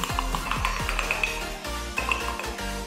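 A spoon stirs brownie batter in a mug with steady, rhythmic scraping and occasional light clinks against the cup, close and fairly loud, with no talking.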